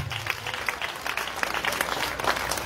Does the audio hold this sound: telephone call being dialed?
no